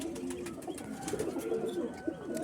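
Long-feathered Madrasi and Andhra pigeons coo softly and continuously in a loft, a low murmuring chorus with no voices over it.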